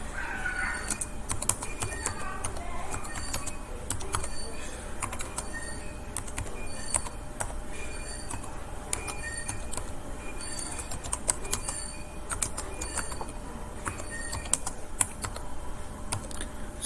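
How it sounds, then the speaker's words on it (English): Fingers type on a computer keyboard, a quiet, steady run of light key clicks with occasional louder taps, close and alone. "So let us type."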